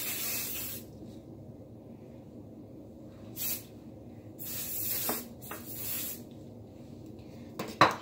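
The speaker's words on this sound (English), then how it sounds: "Hairspray a little bit up" Hairspray misted onto hair while styling a curled updo with a side braid, heard as several short hissing bursts close by, separated by quiet pauses.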